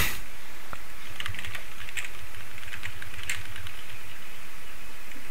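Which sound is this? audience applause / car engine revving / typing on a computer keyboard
typing on a computer keyboard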